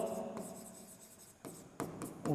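Marker or chalk writing out a chemical compound name on a board, a series of short scratchy strokes with pauses between them, close and fairly quiet.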